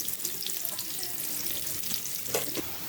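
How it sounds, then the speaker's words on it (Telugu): Sliced onions frying in oil in a pan for Hyderabadi chicken 65 biryani, a steady close hiss and crackle of sizzling with occasional stirring scrapes, no talk. "ముందు ఉల్లిపాయలు వేసుకుందాం. ఇవి బ్రౌన్ అయ్యేంత వరకు వేయించుకుందామండి."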